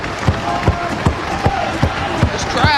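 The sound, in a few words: wrestling crowd cheering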